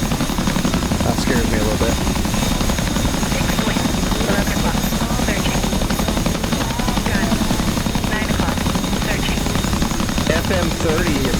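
A helicopter's rotor in a Syria war flight simulation game makes a loud, steady, close drone with rapid rhythmic thumping that never lets up, while someone briefly talks over it.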